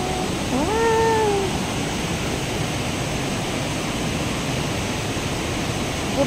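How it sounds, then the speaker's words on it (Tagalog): Rushing water from the Shenxian Valley waterfall in Miaoli, Taiwan, makes a steady, loud broadband roar throughout. A brief rising animal-like cry sounds near the start. "ang ingay ng tubig"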